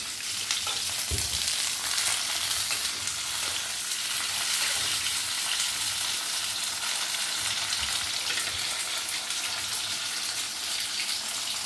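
Ripe red chillies, cut into pieces, fry in a little oil in a deep wok while gongura chutney is being made. A steady, dense sizzle runs the whole way through, with a few soft low knocks near the start.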